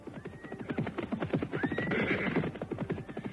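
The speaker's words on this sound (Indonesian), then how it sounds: "Aku mendengar derap kuda mendekat." Horses approach with a rapid clip-clop of hooves under repeated whinnying neighs, growing fuller in the middle, with no talk.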